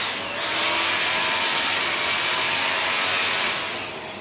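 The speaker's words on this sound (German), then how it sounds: "Und man kann bohren und das wird alles abgesaugt" A loud, steady whooshing drone of a vacuum dust extractor running continuously during drilling, close by, with no talking.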